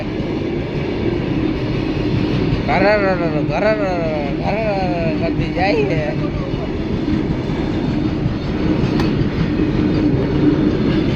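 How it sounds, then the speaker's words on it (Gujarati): A passing train roars continuously at a level crossing with a loud horn sounding several times midway, close by, while a person talks over it. "ટ્રેન નીકળી છે હવે"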